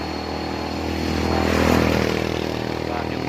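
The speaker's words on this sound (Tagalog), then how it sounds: "Yung motor natin." A motorcycle engine drones steadily from up close during a long solo ride from Cavite to Mindanao, swelling slightly midway, with no talking.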